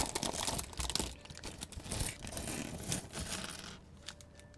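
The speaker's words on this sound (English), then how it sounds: "Incoming crinkling noises." Plastic Lego packaging crinkles as bricks are dropped in, giving dense, close rustling and clattering that fades toward the end.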